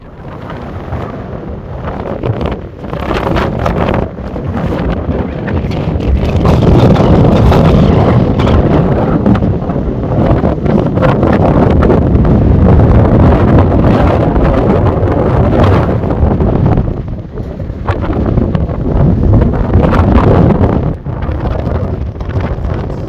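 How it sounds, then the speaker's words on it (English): Strong wind buffets a Ford Econoline camper van conversion parked in Quartzsite, a loud continuous roaring rumble with heavy gusts and thumps battering the microphone throughout. "It's freaking windy in the war wagon right now."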